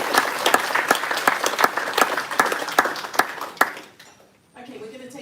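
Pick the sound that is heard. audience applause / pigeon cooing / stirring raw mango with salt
audience applause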